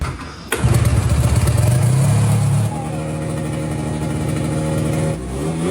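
A 100HP two-stroke engine fitted to a hovercraft fires up with a sharp catch and settles into a loud, rough, throbbing idle and revving, close and continuous, then the pitch and pulse shift as it holds running.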